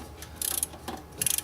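A hand torque wrench ratchets in two quick bursts of rapid metallic clicks, then a shorter burst, while tightening turbo hold-down bolts on a 7.3 PowerStroke Super Duty engine.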